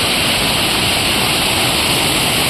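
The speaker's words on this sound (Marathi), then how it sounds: "खूप जोरदार असं पाणी आलेलं आहे" Strong floodwater rushes through a swollen river in rural Konkan, a loud, unbroken roar of churning water that fills the whole moment without pause.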